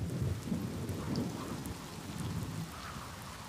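Heavy rain pours steadily onto sun pitcher plants in the wild, a soft, dense wash of falling water with faint rumbles beneath, quiet and unbroken throughout.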